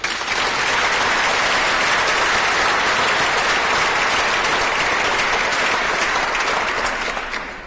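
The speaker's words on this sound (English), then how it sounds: "And can we give a round of applause to them?" A council mayor-making audience gives a sustained, dense round of applause, loud and steady for several seconds before tapering off at the end.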